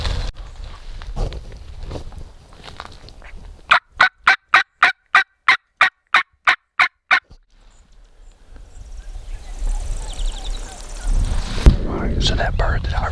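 Wild Merriam's turkey in Idaho mountain country gobbling: a rapid burst of about a dozen evenly spaced sharp notes, fairly close and loud, set between quiet whispered talk and rustling outdoor ambience.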